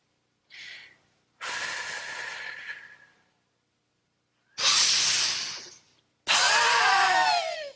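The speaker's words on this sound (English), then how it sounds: "purse your lips, and exhale like you're trying to get a Victorian ghost to escape from your lungs." A person doing BodyFlex aerobic breathing pushes air out through pursed lips in four forceful, hissing exhales, close up. The first is short and the later ones are long, with pauses between them.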